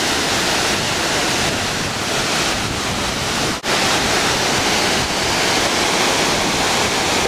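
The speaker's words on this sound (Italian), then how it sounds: "Cascata delle Marmore" The Marmore waterfall in Terni, Italy, a loud, steady, dense roar of falling water that fills the scene without pause, with only one brief dropout.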